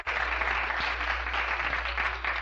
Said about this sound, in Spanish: Y otro aplauso para quienes componen la mejor orquesta de la capital